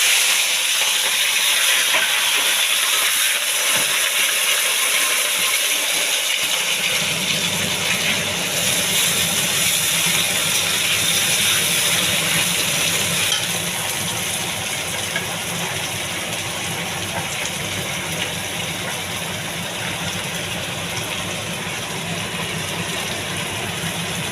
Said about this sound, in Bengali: তারপরে দিয়ে দিচ্ছি আমি গাজর বিনসটা, পরে মটরশুঁটিটা দিচ্ছি